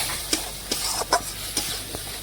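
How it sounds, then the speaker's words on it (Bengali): Spoon stirring dry spice masala loosened with water for mutton in a pan: a steady close sizzle and hiss, with several scraping knocks of the spoon at irregular intervals. "এখন সমস্ত কিছু একসাথে মশলার সাথে ভালোভাবে মিশিয়ে আমি একটু কষিয়ে নেব।"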